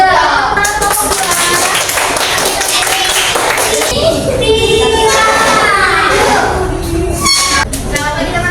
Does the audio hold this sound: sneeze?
no